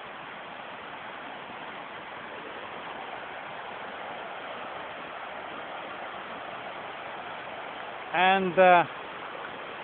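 A mountain river rushes through a deep, wooded ravine, a steady, even roar of flowing water heard up close throughout, with a voice briefly speaking near the end.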